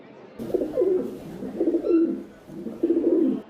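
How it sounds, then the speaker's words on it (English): Pigeons on roof trusses coo in soft, throaty, repeated phrases close by, several rolling calls in a row with brief pauses between. "Even the pigeons on the roof trusses looked suspiciously alert."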